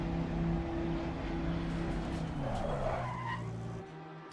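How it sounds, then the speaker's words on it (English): A Lamborghini ST Evo II race car in Assetto Corsa running over a bump near the pit lane, a sustained engine drone with tire scrubbing that shifts in pitch and then fades toward the end, no talk. "that's why my car is making such weird noises"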